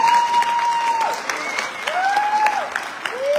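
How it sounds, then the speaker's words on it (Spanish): A panel audience applauds in a steady wash of clapping. Sliding whistle-like tones and a voice sound over it. "fuerte el aplauso para ella, por favor"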